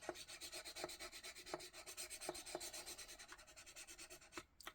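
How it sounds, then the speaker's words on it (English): Paper stamped piece for a card being rubbed down by hand, a close, quiet scratchy swishing in quick back-and-forth strokes with a steady rhythm. "And give it a good rub down."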